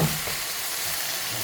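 Food with black pepper sizzles steadily in a frying pan as it is stirred, a continuous close hiss of frying with no voices.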